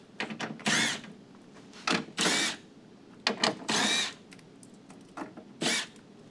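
Power drill spinning out 7mm bolts on a Corvette's chassis-mounted wing mounts, several short whirring bursts close up with gaps and a faint clunk between them, no talk.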